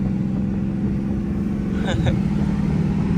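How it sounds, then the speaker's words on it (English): A Dodge Charger RT engine rumbles loudly and steadily on a launch, close and continuous, with a brief rising chirp partway through. "the RT almost took off and spun tires like crazy"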